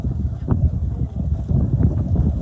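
Steady wind buffets the microphone in a continuous low, rumbling roar, loud and close, with no one speaking, at Perfect Day at CocoCay.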